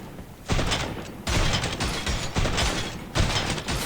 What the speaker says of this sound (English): 3 of them are shooting so many bullets.